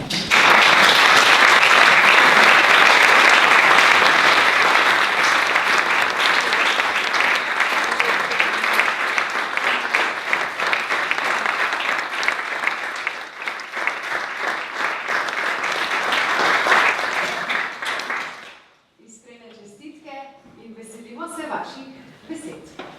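Sustained, dense audience applause at an award ceremony for scientific achievements fills nearly twenty seconds, loud and steady, then stops abruptly and a speaker begins talking.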